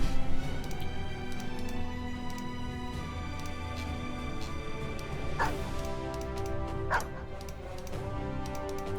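Dog barks in a fantasy strategy game, two sharp yips standing out over a steady musical drone and ambient game sound, fairly close but not loud.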